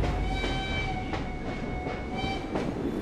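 Train ride in the video game Assassin's Creed Syndicate, a steady rumbling carriage with sustained whining tones and a regular clickety-clack of wheels over rail joints, loud and continuous with no voices.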